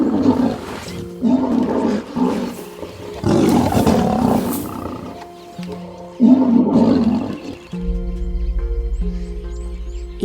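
A pride of twelve lions growling and roaring together in the wild, deep rumbling bursts rising and falling in repeated waves close by, with a low sustained hum toward the end.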